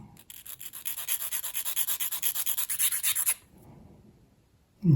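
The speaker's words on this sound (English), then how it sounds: "So we'll just come in with the photo etch file." A fine photo etch file rasps across small brass photo etch parts joined with solder on a 1/200 scale ship model, a quick, steady series of about twenty close, bright strokes, then a brief pause and a handling knock.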